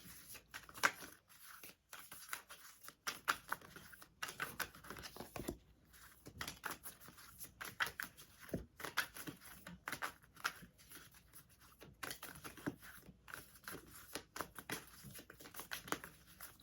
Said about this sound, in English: I was gonna keep shuffling and wait for more cards